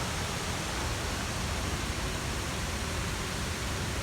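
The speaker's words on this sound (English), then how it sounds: "The Abokim waterfalls in Cross River State, Nigeria." Abokim waterfalls in Cross River State, Nigeria, a steady dense roar of falling water, loud and unbroken throughout.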